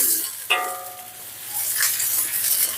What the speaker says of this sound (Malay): Masuk bawang. Okay, tumis